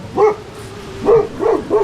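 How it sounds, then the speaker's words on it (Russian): A dog barks outdoors at night in Tajikistan's Fann Mountains near Panjakent, four fairly close, loud barks, one followed by a quick pair, over a steady low hum. "Собака что-то вообще разлаялась, убежала куда-то"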